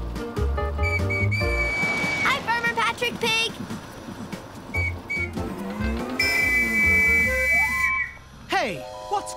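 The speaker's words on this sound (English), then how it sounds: "That other whistle is causing big traffic problems." A shrill whistle blows several times over busy cartoon music and clattering effects.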